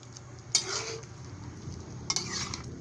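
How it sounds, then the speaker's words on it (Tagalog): Chicken adobo with coconut milk stirred and turned in a pan, a soft steady sizzle broken by two sharp scraping clacks of the utensil against the pan. "Isang halo pa, isang baliktad pa mga kakusin."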